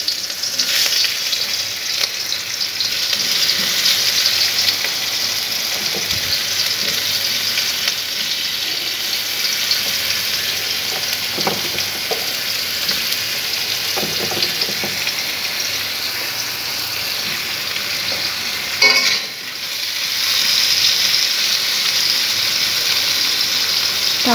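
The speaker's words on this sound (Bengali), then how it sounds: "এক এক করে কাঁকরোল দিয়ে দিচ্ছি।" Pieces of kakrol, spiny gourd, are laid one by one into hot oil in a pan, producing a loud, steady sizzle with scattered pops and soft clinks, plus a brief rustle near the end.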